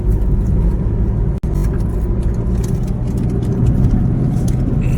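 Inside a car cruising on a highway just past the Dankuni toll, a steady low engine and road rumble fills the cabin, broken once by a brief sharp click.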